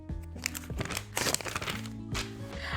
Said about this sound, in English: Can you hear the paper?